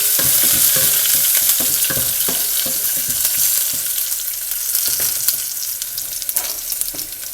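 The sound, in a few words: tempering ginger, green chillies and curry leaves in hot oil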